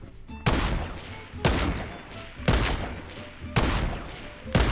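Four loud, heavy gunshots from a Fortnite match ring out about a second apart, each a sharp crack with a short, rumbling tail.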